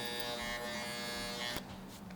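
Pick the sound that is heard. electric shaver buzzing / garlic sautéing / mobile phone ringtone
electric shaver buzzing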